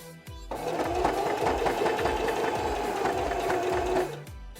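A sewing machine stitches slowly around a curve, its needle thumping in a steady, even rhythm close by for several seconds before stopping, with no talking.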